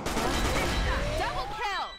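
Rapid gunfire bursts in a first-person shooter video game crackle loudly through a busy, dense mix with ricochet-like sweeps, continuing for the whole stretch without a break.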